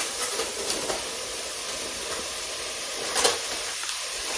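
Ground beef mince tipped into a hot pan with softened vegetables and chopped tomatoes for a lasagna, giving a steady, fairly quiet hiss with a slightly stronger flare near the end.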